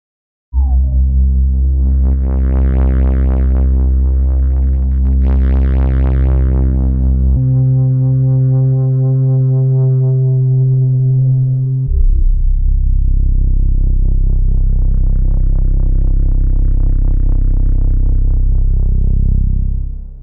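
Smooth, sustained synthesizer tones from an Omnisphere patch, pure and sine-like, holding steady notes that shift in pitch across a long passage, with no voices.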